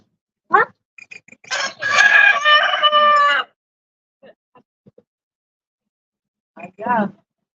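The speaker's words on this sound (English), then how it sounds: "Rooster." A rooster crows twice at a goat farm, a long loud crow in the middle and a shorter one near the end, with brief outdoor noises between them.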